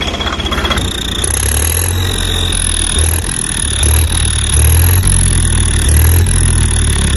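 A vehicle engine fitted with a turbo runs loudly and steadily, with a deep rhythmic thrum and a high whistling whine riding over it, close and continuous with no talking.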